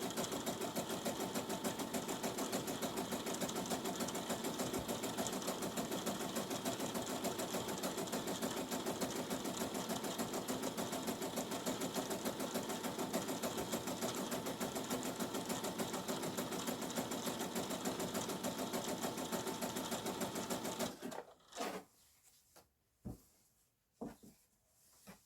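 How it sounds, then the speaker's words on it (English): A sewing machine stitches apron fabric in a fast, steady mechanical whir for about twenty seconds, then stops, leaving a few soft clicks and knocks. "and you're going to sew it."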